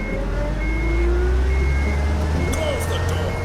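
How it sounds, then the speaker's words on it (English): A truck engine in the video game UnMetal rumbles low and loud once started, idling steadily under thin electronic tones and a short rising whine near the end. "Crap, they started the engine."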